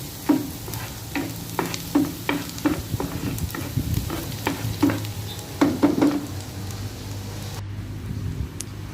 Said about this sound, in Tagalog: Lutuin lang natin yung garlic.